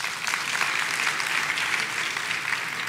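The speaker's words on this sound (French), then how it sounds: "je vous demande de vous applaudir encore une fois" A graduation ceremony audience applauds, a continuous, dense wash of clapping from many hands at steady loudness, with no voices standing out.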